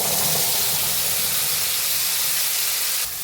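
Spice paste of turmeric, chili and Kashmiri chili powder mixed with water, sizzling in hot oil for a potato dum curry: a steady, loud broadband hiss that holds throughout, then drops slightly at the end.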